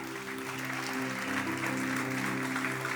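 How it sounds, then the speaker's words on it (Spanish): A church congregation applauds steadily over sustained organ-like tones, a soft, even wash of clapping lasting the whole moment. "Dale un aplauso al Señor, venga."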